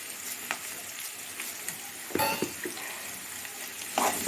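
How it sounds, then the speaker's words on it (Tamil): Chopped onions sauté in a pan with a soft, steady sizzle and occasional scraping stirs and faint clinks, close and fairly quiet. "இங்கே வெங்காயம் வதங்கிட்டு இருக்குது."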